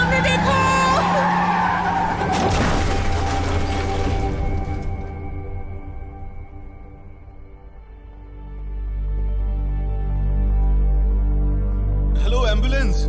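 A car skids with a long tire squeal, then crashes with a sharp impact and shattering debris, followed by a low rumbling tail and a final burst of noise, with voices talking early on.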